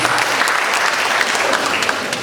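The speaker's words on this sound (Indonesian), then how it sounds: "Tepuk tangan buat Tuhan Yesus." Church congregation applauding during a worship service, a dense, steady round of clapping that fills the short span, close and fairly loud, with no voices over it.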